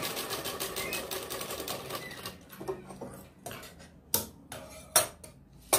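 A sewing machine runs a short stitching pass on the collar of a ladies' kameez, then stops, followed by scattered clicks and sharp taps from handling the fabric and machine.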